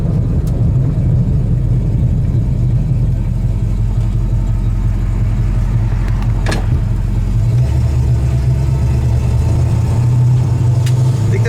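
A 1971 Dodge Charger Super Bee's engine drives steadily along the road, its deep rumble loud and close throughout, with the tone shifting lower partway through as the revs change.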